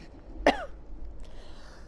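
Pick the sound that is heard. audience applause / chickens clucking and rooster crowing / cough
cough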